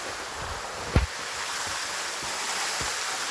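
Waterfall on Chamberlain Creek in Jackson Demonstration State Forest, Mendocino County, California, giving a steady broadband rush of falling water, with a few soft low knocks and bumps near the microphone.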